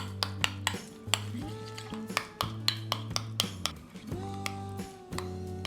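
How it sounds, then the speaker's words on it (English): A spoon stirs and scrapes deviled egg yolk filling with spring onion and chili paste in a bowl, giving steady clinks and taps against the bowl close up with no talking. "and now give it a good mix"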